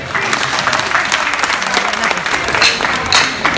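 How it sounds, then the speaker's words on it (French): Enthusiastic audience applause at an outdoor show in Saint-Joseph, with a crowd clapping steadily and densely at full volume throughout, and a few voices mixed into the sustained ovation. "je vous demande d'applaudir comme il se doit"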